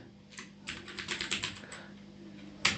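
Rapid keystrokes on a computer keyboard while coding a video uploader project, with a close burst of clicky typing followed by a single louder key tap at the end.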